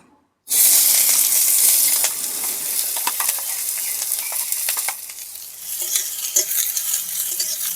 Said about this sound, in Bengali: পেঁয়াজ কুচিগুলোকে হালকা করে ভাজা ভাজা করে নেবো